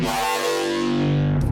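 A dense, buzzy synth bass drones loud and harsh with a hollow, metallic comb-filtered sweep running through it, then cuts off abruptly.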